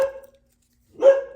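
A dog gives two short, sharp barks separated by a brief silence, fairly close and moderately loud, with no other sounds.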